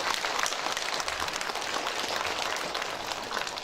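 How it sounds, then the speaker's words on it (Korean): An audience at a housing association general meeting breaks into sustained, dense applause that carries on evenly throughout, with no talk over it. "여러분들 스스로를 위한 박수 한번 치고"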